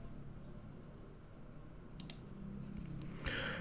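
Several computer mouse clicks, a quick pair and then a few more, sound crisp and close over a low steady hum from the machine.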